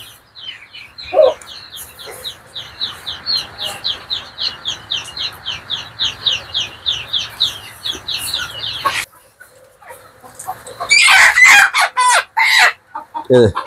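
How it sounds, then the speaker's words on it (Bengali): Chickens on a rooftop farm, some with colds and eye problems, cluck in a steady rhythmic series of close calls, followed by a louder burst of agitated squawking and clucking near the end. "আমরা একটা খামার থেকে মুরগিগুলো আনছি"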